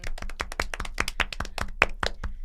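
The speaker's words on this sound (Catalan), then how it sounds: "Un aplaudiment" A small group clapping in a podcast studio, a dozen or so sharp, close hand claps in an uneven patter lasting a couple of seconds, with no talk over them.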